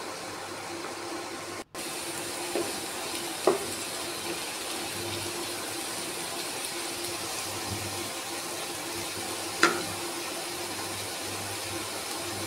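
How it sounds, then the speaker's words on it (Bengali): Chopped carrot and beetroot fry together in a pan, a steady soft hiss throughout with a few faint taps of a utensil against the pan. "এবার আমি কুচিয়ে রাখা গাজর দিয়ে দিলাম। গাজরটাকেও একসাথে কিছুক্ষণ আমি ভেজে নেব।"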